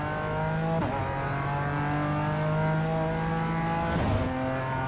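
A BMW race car engine in the iRacing video game revs hard, climbing in pitch with two sharp gear shifts, loud and continuous, alone without commentary.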